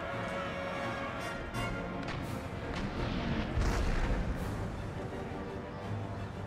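Musket volleys and artillery booms from a Napoleonic-era battle at Copenhagen in Empire: Total War rumble faintly in the distance, a dull continuous crackle with a heavier swell in the middle.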